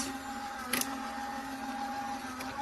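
A fabric die cutting machine rolls a cutting mat and die through its rollers, giving a steady mechanical hum with a low tonal whine, a brief louder clack near the start, and no voices.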